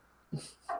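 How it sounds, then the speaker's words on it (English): Faint, close dog whimpering in a quiet room: a soft breathy whine followed by a brief higher-pitched squeak. "sorry about the dog. I'll go hush it in a second."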